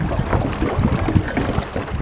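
Small motorised rowing boat on the water at Tràng An, Ninh Bình, a low rumbling engine drone with splashing and wind noise, steady and close.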